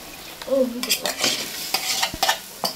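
Pre-boiled taro pieces are tossed into a hot pan of spices, giving a close sizzle broken by several sharp stirring and scraping bursts of a spoon against the pan.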